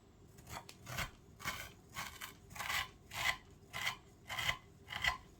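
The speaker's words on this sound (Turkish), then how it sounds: "Ben kare kare keseceğim." A knife cuts walnut basma kadayıf into squares, giving a steady run of crisp, rasping crunches at about two per second, close and fairly quiet, with no voices.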